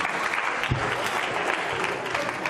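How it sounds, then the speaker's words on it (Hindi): Audience applause for quiz show contestant Gauri Sharma, a steady, dense wash of clapping from a crowd that holds evenly throughout. "गौरी शर्मा जी के लिए तालियां जोरों से बजाइए आप"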